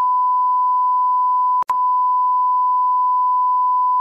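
An alarm set as a medicine reminder gives a steady, continuous electronic beep, broken once by a very brief gap, clear and alone with no talking.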